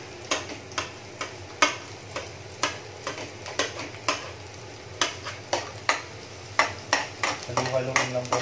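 Garlic sautéing in a pan for ginisang upo, a spatula scraping through it in a steady run of sharp stirring strokes over a low sizzle that grows busier toward the end, close and with no voices.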